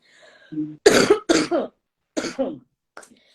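A few dry coughs in quick bursts, close by, followed by a shorter cough after a pause.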